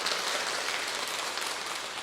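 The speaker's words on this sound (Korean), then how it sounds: "뜨거운 박수 보내주시겠습니다" Steady, dense applause from a church gathering's audience honoring a pastor, sustained and even throughout at moderate distance with no voices over it.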